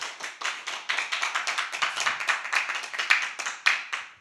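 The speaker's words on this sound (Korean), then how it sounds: "감사의 박수." A church congregation clapping in praise during a Sunday worship service, a moderate patter of hands with uneven bursts and slightly roomy echo, fairly soft and without voices.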